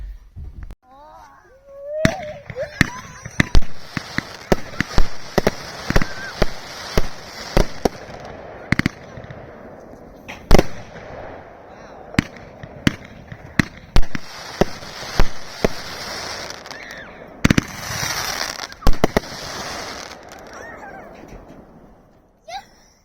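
A Jungleland 500g firework cake by Pyro Demon fires crackling palms in a steady run of loud, close shots, each launch thump followed by dense sizzling crackle. The barrage carries on for over twenty seconds, and no one speaks.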